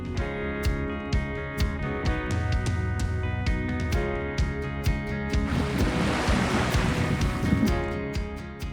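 Ocean surf washing onto a white-sand beach at Punta Chivato, a steady broadband wash that swells louder in the second half, with wind and no talking.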